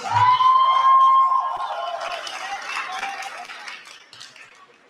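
Audience applause at a business workshop in Soweto, broad and steady in a room, following a brief tone and rising as the tone fades, then slowly thinning out over several seconds.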